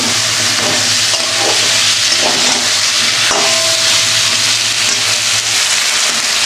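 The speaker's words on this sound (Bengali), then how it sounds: "ভালোভাবে কষিয়ে নিচ্ছি" A vegetable curry sautéing in a pan: a steady, loud, close hiss of frying with faint stirring knocks underneath and no pause.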